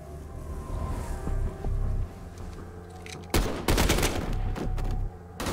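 Call of Duty: Black Ops 4 combat: bursts of loud gunfire crackle in rapid clusters over a low rumbling battlefield, with sharp volleys growing denser toward the end.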